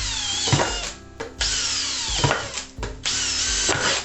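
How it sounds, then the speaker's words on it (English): Power drill boring a series of holes into a plastic bokashi bin, with several loud whining bursts that spin up and cut off between brief pauses. "I'm just going to drill a whole lot of holes randomly"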